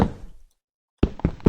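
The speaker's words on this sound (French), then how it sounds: "mais c'était le bruit de ta pioche" Sharp knocking blows of a pickaxe striking blocks in Minecraft come in short bursts separated by a brief silence.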